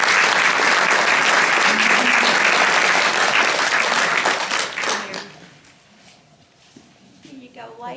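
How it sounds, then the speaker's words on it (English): Audience applause at a membership meeting, loud and dense for about five seconds, then thinning out and fading, with scattered handclaps and voices talking afterward. "would you please stand so we can applaud for you?"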